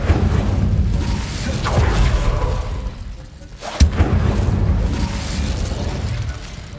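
An Incendio fire spell cast in Hogwarts Legacy, a sharp burst around the middle with a fiery whoosh and rumble, set over continuous low game ambience and muffled booms.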